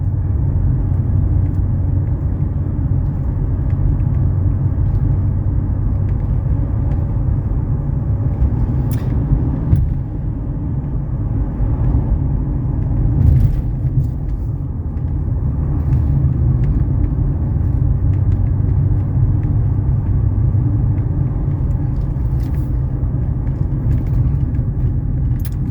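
A 1991 Mercedes 300SE on a road test drive gives a steady low engine and road rumble from inside the cabin, continuous for the whole stretch with a few faint clicks and bumps.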